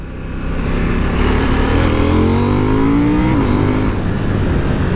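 A KTM 890 Duke R or Triumph Street Triple RS motorcycle engine revs loudly and close, its pitch rising steadily through the gears before easing off, with no voices.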